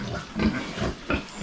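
Large, oversize farm pigs, the biggest of the group, give about three loud, close grunts spaced evenly over a second and a half.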